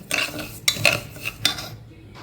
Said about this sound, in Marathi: मी कुकरमध्ये घातल्यानंतर परतून घेतला